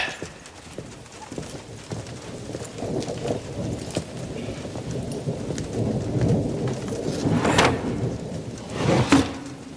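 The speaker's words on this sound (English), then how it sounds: "The rain's getting heavier." Heavy rain pours steadily and loudly, with a deep rumble of thunder swelling partway through. A couple of sharper cracks land near the end. Nobody speaks.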